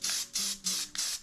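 A Rust-Oleum spray paint can sprays in four quick, loud bursts of close hissing, separated by brief pauses, with no talk.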